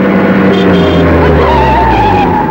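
A car skids hard to a stop: a loud, sustained tire screech over a deep engine rumble lasts a couple of seconds, close and dominant, with no speech.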